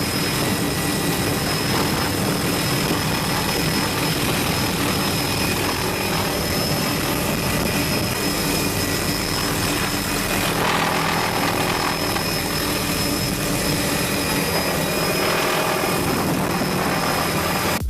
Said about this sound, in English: This helicopter pilot flying really low through a rainforest.